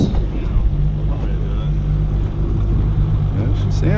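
An Evinrude E-TEC G2 300 outboard motor, new and still breaking in, runs at a steady idle, giving a continuous low droning hum with light wind noise over it.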